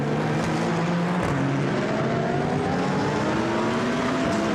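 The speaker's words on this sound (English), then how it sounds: "So the car's turning their way through the chicane." Race cars braking and accelerating through the Monza chicane during an endurance race, several engines overlapping with rising and falling pitch as they pass, loud and continuous.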